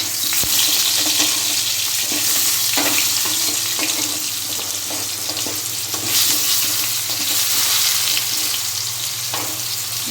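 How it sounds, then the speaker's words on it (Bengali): Potatoes fry loudly in oil with turmeric, a dense close sizzle that holds steady throughout, broken by occasional clicks of stirring. "এবার হলুদ দিয়ে লাল লাল করে ভেজে নেব"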